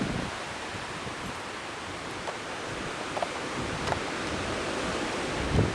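Strong gust of wind outdoors near an elm tree, a broad continuous roar with rushing, rustling texture and a slight swell toward the end, with no voices.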